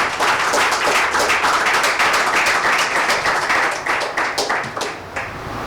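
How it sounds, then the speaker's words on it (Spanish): A church congregation claps steadily and loudly together during a Sunday service, dense rapid applause that thins and fades toward the end. "Si ese aplauso es para el Señor, déselo más fuerte"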